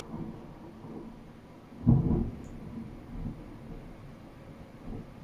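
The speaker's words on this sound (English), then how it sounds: "Are you guys hearing the thunder?" A low, distant thunder rumble rolls in briefly and fades, faint beneath steady background noise outdoors.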